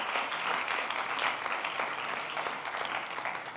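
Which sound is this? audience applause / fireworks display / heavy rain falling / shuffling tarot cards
audience applause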